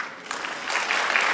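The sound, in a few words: applause for a speaker at an expo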